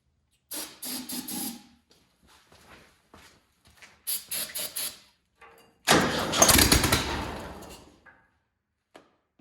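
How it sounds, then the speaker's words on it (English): An abandoned VW rail buggy engine, primed with starting fluid, sputters and catches for a few rough seconds after a couple of cranking attempts, loud and close, then dies back to quiet. "Maybe throw the plugs in, hit it with some starting fluid, and see if she pops."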